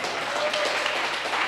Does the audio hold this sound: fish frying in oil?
no